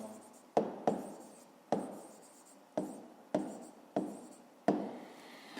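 A pen scratches and taps across paper during a fifth-grade maths exercise, in several short strokes that each begin with a sharp tick against the page, close and fairly quiet, with no talking.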